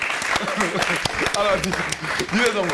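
A studio audience applauds a guest couturier on a televised talk show, brisk clapping running throughout while voices talk and laugh over it.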